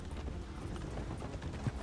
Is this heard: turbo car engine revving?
no